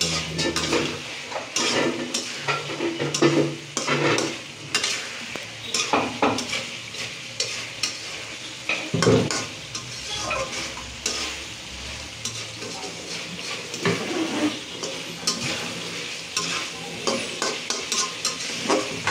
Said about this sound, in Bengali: ভালো করে নাড়াচাড়া করতে হবে এবং খেয়াল রাখতে হবে যে কড়াইয়ের তলাতে যাতে লেগে না যায়